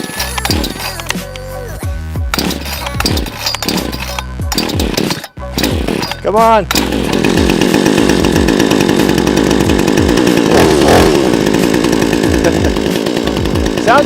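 A cheap chainsaw bought on Amazon is yanked several times with short sputtering pull-starts and a brief rev, then catches and runs at a loud, steady, high-pitched buzz close by, while a man calls out briefly.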